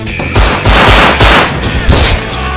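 Rapid bursts of gunfire from a video game ring out loudly in several clustered volleys, with heavy low booms beneath crackling shots.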